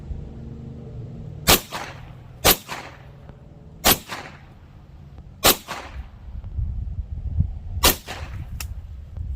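A Kel-Tec Sub-2000 carbine fires five sharp, loud single shots at irregular intervals of about one to two seconds, each followed by a short echo, finishing off the magazine outdoors with no talk.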